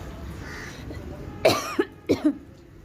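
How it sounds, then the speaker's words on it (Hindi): A close, harsh cough comes suddenly out of a quiet background, then a short burst of smaller coughs follows. "बीच में खांसी आ गई थी भाई"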